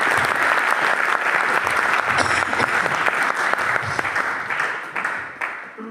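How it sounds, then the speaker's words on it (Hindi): A room full of people at a training meeting breaks into loud, sustained clapping that carries on for several seconds and fades slightly at the end. "तो आप लोग के लिए जोरदार ताली"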